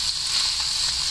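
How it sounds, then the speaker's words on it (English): A thin marinated steak sears in a hot pan, giving a short, steady, close sizzle and hiss with no voices. "This is a pretty thin steak, so you should probably just be able to sear it"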